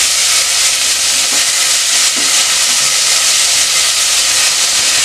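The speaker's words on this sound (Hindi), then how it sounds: "पहले प्याज और आलू को अच्छे से सौते कर लेंगे।" Onions and potatoes sauté in a pan for a Spanish omelette, giving a steady, loud, close sizzle with a bright hiss that runs unbroken and alone, marked by a few faint stirring clinks.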